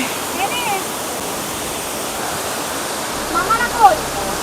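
A waterfall in Kalimpong, where people have climbed down into the water, gives a steady broadband rush of falling water, with brief faint sounds near the end.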